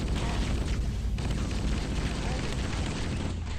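A grenade explosion in Halo CE, a dense, loud, sustained boom with a rumbling low end filling the whole few seconds, with game noise mixed in.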